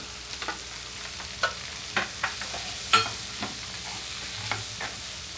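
Prawns hit a hot pan while a home cook prepares an Agri-style prawn pizza, frying with a soft steady sizzle punctuated by several sharp scrapes and clinks of a spoon stirring.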